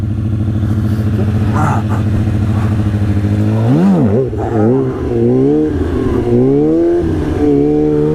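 Stunt motorcycle engine revving loudly and continuously through staggered wheelies, steady drone with sharp rising and falling pitch sweeps as the throttle is blipped, close and unbroken.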